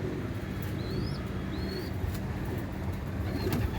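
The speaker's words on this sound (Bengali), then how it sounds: "এই দু পেয়ারই পায়রা দেখাবো" Baby pigeons in a nest box give a few faint, brief calls over a steady background hiss, soft and close, with no talking.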